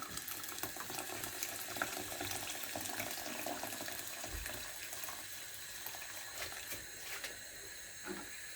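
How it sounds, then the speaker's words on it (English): Hot water runs and splashes steadily into a rice cooker, a continuous hissing pour at moderate distance with no talking. "I'll put in hot water."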